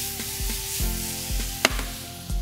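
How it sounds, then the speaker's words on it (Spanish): Lean meat fries in a hot wok with a little oil, a steady close sizzle broken by repeated soft knocks and one sharp clack, with no talking. "Vamos a poner la carne en un wok que ya tengo caliente también. Vamos a agregar un poco de aceite nada más"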